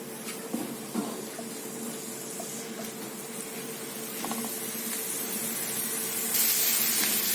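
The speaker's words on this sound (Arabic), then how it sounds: "هنشوحه كده تشويحه على النار يدبل" A steady hiss of onions sizzling in a hot pan, with faint clicks and scrapes, growing slightly louder toward the end.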